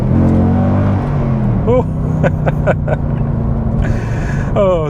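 A Mercedes C63 AMG W204 with its 6.2-litre V8 revs hard in a loud, close burst, then drops and blips several quick times before climbing again, with a voice over it.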